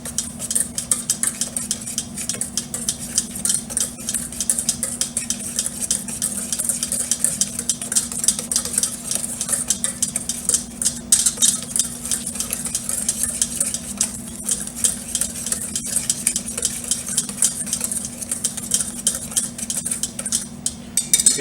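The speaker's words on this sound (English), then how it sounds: "So this is my whisk, this is my bowl, and what I'm going to do here now is I'm just going to mix everything up." Cake batter of flour, cinnamon and sugar being whisked in a bowl, a steady rapid scraping and ticking of the whisk against the bowl, close and continuous with no talk.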